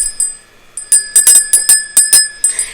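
A small metal bell rings close and loud in a quick series of sharp strikes, bright sustained tones sounding about eight times in under three seconds.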